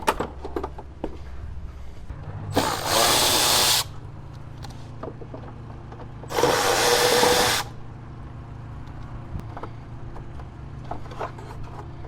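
A power tool removes Torx bolts while working on a 2.5L MK6 Jetta's vacuum pump, two loud sustained bursts of whirring about a second long each, separated by quieter clicks and handling noise.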